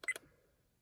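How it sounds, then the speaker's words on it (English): A Rexing V1 4K dash cam gives a quick pair of sharp electronic beeps, clean and close, fading into near silence. "Obviously, you can turn the beep off,"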